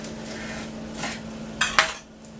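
A knife chops through a lemongrass stalk on a board for pork belly banh mi, giving two sharp close knocks near the end after a few softer scrapes over steady background hum.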